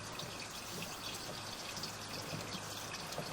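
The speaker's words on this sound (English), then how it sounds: "We are running some water to ensure that our pipe is watertight" Water runs through a 4-inch cast iron sewer line about 40 years old, a steady, even rushing and trickling wash that continues unbroken with no voices.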